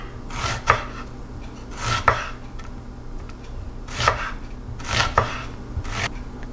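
A knife slices red cabbage and onions about a quarter inch thick on a cutting board, giving five separate crisp, close crunching strokes at uneven intervals over a low steady background hum, with no talking.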